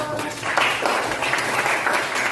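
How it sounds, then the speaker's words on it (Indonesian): Classroom applause for a pupil who answered correctly during a lesson, a steady patter of many small hands clapping at moderate level over a room murmur. "Kasih tepuk tangan untuk Ara dong."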